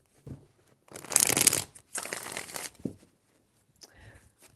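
A deck of cards is shuffled during a zodiac card reading, with two main riffling, crinkly bursts and a few quieter shuffles and taps around them. The sounds are close and fairly loud, and nobody speaks.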